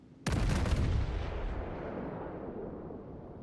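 Naval main battery guns fire in World of Warships, a single heavy boom opening with a sharp crack and rolling into a long, loud, decaying rumble that fades slowly.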